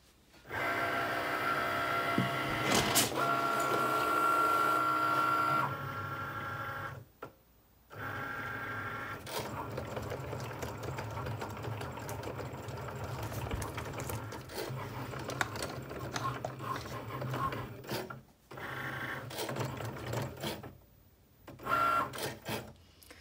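A vinyl cutting machine cuts permanent vinyl for a Dollar Tree coffee mug, a steady mechanical whir and buzzing carriage motor running in stretches broken by brief pauses, close and fairly loud, without speech.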